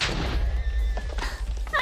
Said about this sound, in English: you killed your own fucking horse.